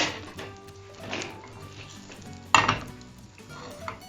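Soaked French toast bread sizzles and fries in a pan, a soft crackling hiss punctuated by scraping and a sharp clatter of a utensil against the pan midway.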